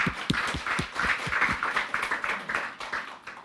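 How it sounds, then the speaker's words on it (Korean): A church congregation claps together in a quick, even rhythm, a bright, steady patter of many hands lasting a few seconds, with no voices. "박수로 예수님께 양 돌리겠습니다"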